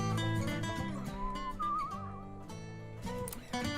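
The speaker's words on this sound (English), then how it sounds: "I do like that whistling thing, that's pretty cool." Whistled melody in the video game Where The Water Tastes Like Wine, a short wavering tune rising above a backdrop of layered game music, moderately loud.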